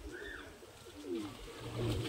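Madrasi pigeons kept for sale at a market give soft, low cooing calls close by, a couple of rolling coos rising toward the end over faint background noise.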